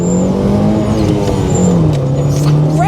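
A Nissan Micra K11 road rally car revs hard nearby, its engine note climbing and dropping through sharp rising sweeps, loud and alone without talk.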